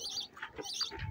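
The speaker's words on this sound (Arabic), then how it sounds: "عصافير تزقزق" Sparrows chirp briefly in an old neighbourhood quarter of Sidi Bel Abbès, Algeria, a few faint high tweets over quiet background.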